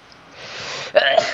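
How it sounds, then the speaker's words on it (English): A single person's sneeze, opening with a rising breathy intake and ending in a sharp, loud burst, close and alone. "Bless you."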